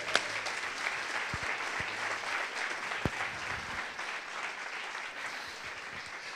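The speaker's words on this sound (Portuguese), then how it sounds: "Damos um aplauso para Jesus." Fairly faint applause from a church congregation, with a few sharper nearby claps and thumps standing out from the continuous clapping.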